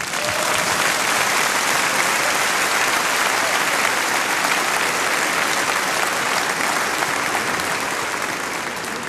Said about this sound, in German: Du kriegst einen riesen Applaus.